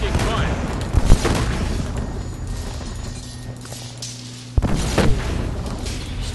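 Gunfire and blasts in the video game Iron Brigade, two sharp booming impacts over a rumbling battle backdrop, with a player talking over the action.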